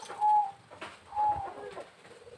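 Zebra dove (perkutut) cooing, a white male, with two soft, drawn-out coo phrases about a second apart, fairly close and alone without talk.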